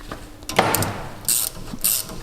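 Ratchet tightening leaf spring bolts on a Mitsubishi L200, a few short bursts of clicking pawl action close by, separated by brief pauses, with no talk.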